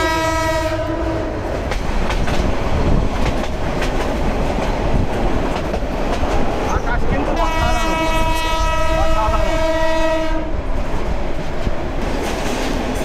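A Nazirhat local train rolls slowly along a rail line in poor condition, with a constant rumble, clattering wheels and two long, loud horn blasts.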